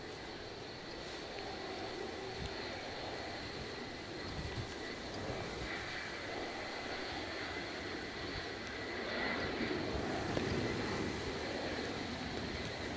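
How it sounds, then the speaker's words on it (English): An easyJet airliner inbound to Edinburgh Airport from Paris Charles de Gaulle, a faint, distant jet hum that rises gently toward the end, with no talking. "EasyJet inbound from Paris Charles de Gaulle"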